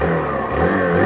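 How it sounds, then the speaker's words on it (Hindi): A Hero Glamour 125 BS6 2023 motorcycle engine fires up close by, a loud rising rev over about a second. "एक बार हम बाइक को स्टार्ट करते हैं"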